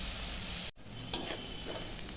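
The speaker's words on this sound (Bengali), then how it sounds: "পেঁয়াজগুলো এখন ভাজা ভাজা করবো, তারপরে মাংসটা দিয়ে দেবো।" Onions frying in a pan for a home-cooked chicken curry, a steady close sizzle with a brief gap and a few stirring scrapes and crackles, no voices.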